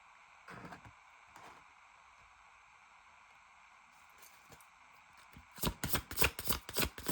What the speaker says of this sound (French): Je tire quelques cartes et je te dis ce que je veux.